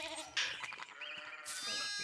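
Sheep in the video game Pentiment bleat in clear, wavering calls, one loud cry followed by softer overlapping bleats, close and prominent over faint background sounds.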